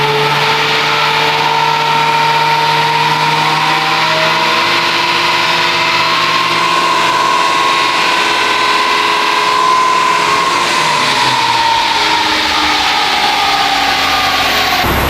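Mazda RX7 13B rotary engine running on a dyno, a loud continuous buzzing drone whose pitch rises slowly and then falls away near the end, heard alone without talk.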